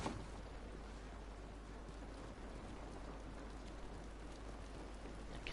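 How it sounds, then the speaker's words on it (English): Steady rain falls continuously in The Last of Us, a dense, even wash of drops on surfaces that stays fairly faint and unbroken from start to finish, with no voices over it. "This rain ain't gonna do us any good."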